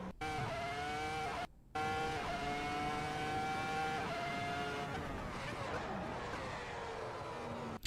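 Race car in the Assetto Corsa video game braking into turn 1, engine tone dropping through downshifts after a short cut, then tyres scrubbing and the revs settling, moderately loud with no speech.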